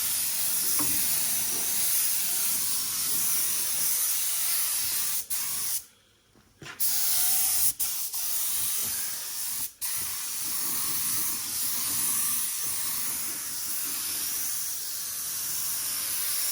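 An old 1970s Mercedes car body being spray painted: a long, steady, loud aerosol hiss runs nearly throughout, broken by a brief pause of about a second and a few short clicks.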